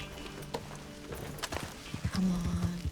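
Horse hooves clip-clopping in Red Dead Redemption 2 during a chase, irregular thuds mixed with game noise and brief bursts of sound, ending in a quick run of hoofbeats near the end.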